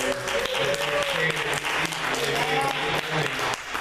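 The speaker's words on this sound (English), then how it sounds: "let's give participants a, a round of applause" A church congregation applauds participants after a prayer, a dense wash of clapping that carries steadily throughout, with voices and cheers mixed in.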